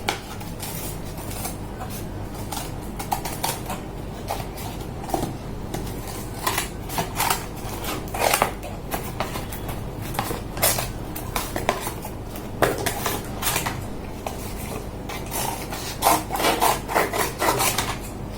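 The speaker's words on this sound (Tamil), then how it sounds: "போர்டிலே கட் பண்ணுறேன்." Cardboard being cut along a boomerang outline on a board gives a steady rasping scrape with frequent short cutting strokes, close and fairly loud throughout with no talking.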